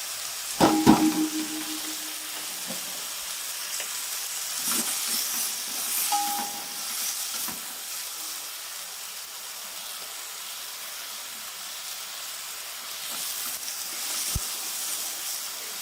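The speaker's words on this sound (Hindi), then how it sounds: "ऑयल गर्म हो जाए, इसमें फिर बंद गोभी डालेंगे।" One kilogram of shredded cabbage hits hot oil in a pan, giving a sharp clatter and hiss at first, then settling into a steady, moderate sizzle with occasional stirring scrapes.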